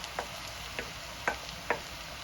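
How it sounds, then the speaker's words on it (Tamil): Squid frying in a pan for a squid curry, a soft steady sizzle with four sharp spatula scrapes spaced roughly evenly, close but quiet, no voices. "கணவாயை போட்டு நல்லா சுழட்டி விடுவோம்"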